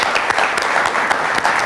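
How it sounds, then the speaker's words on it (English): Short burst of lively applause from an audience at a school quiz event, dense close clapping sustained across the whole moment. "Let's give her a round of applause."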